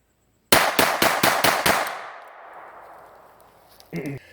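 A Phoenix Arms HP25 pistol fires six rapid, evenly spaced shots up close. Each crack is loud and sharp and leaves a ringing tail, followed by a brief clink.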